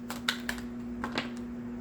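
Tarot cards being shuffled close by give quick, light riffling clicks and taps in short bursts over a steady low hum.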